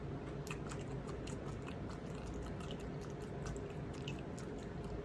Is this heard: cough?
no